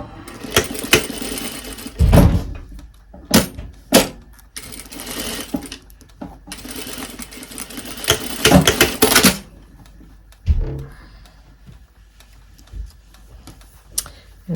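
A sewing machine stitches a 1 centimeter seam in bursts of rapid mechanical clatter, with short pauses, handling knocks and fabric rustle between runs; near and fairly loud.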